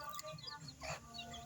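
A backyard rooster from an organic chicken flock gives short, close clucking calls outdoors over low background noise.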